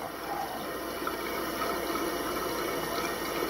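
Water running steadily in a toilet tank whose broken float valve fails to shut off the flow, a continuous close hiss and trickle with no talking.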